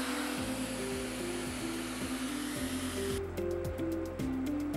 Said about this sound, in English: remove the shield and cover with hot air gun